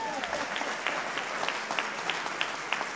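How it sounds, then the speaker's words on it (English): Steady applause from an audience at a North Carolina Governor's Award for Excellence ceremony, moderately loud and continuous, with some voices and a few sharper claps over the crowd. "Y'all give them a round of applause."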